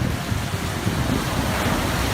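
Ocean waves wash onto a beach shore as a steady, loud broadband roar, mixed with wind buffeting the microphone, with no voices.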